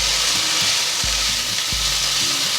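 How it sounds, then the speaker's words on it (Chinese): Diced potatoes dusted with white pepper being stir-fried quickly in a sauce, a loud, dense, steady sizzle with repeated tossing bursts, over background music. "半茶匙白胡椒粉，快速翻炒"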